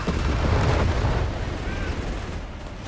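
Grenades burst amid gunfire in a Company of Heroes 3 match, heavy low booms and rumbling battle noise at close range, loud at first then easing, with a caster's voice over it.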